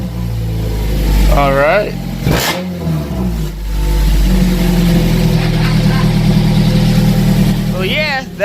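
Honda Prelude, fourth generation, fitted with a custom side-exit exhaust, revving in short bursts and settling back to a rumbling idle, heard up close with people talking over and between the blips.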